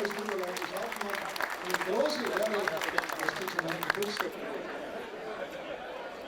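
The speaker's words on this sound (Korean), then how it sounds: "마을 사람들과 지인들이 축하의 박수를 건넸다" Villagers and friends clap in celebration at a 60th birthday party in Salzburg, Austria, a dense crowd applause mixed with lively chatter and voices, fading somewhat toward the end.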